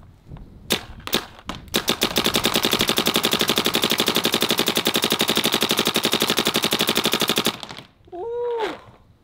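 A Twister Geo 4 blaster fires a few single shots, then one long, even, rapid burst of sharp cracks lasting about six seconds. It stops abruptly, and a short voiced exclamation follows.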